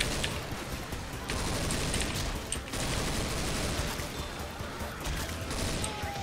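Continuous dense gunfire in the zombie shooter game Left 4 Dead 2, a loud unbroken fusillade of overlapping shots filling the whole stretch with no pauses.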